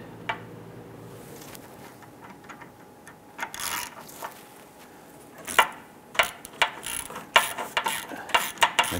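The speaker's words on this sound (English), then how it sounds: "Use your hand ratchet." A hand ratchet snugging down a lower AC line bolt on a 2008-2013 Nissan Rogue, quick rattling clicks coming in short bursts that grow louder and more frequent toward the end.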